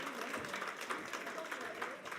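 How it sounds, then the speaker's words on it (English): An audience at a medical journalism awards ceremony claps in a steady, moderately distant wash of applause, with a voice speaking faintly underneath. "Another round of applause, I think."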